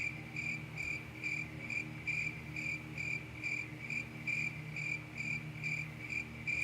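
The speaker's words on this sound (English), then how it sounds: "Why did I play the cricket sound?" Cricket chirping sound effect: steady, regular pulses of high chirps repeating continuously over a low background hum, even and moderately loud, with no talking.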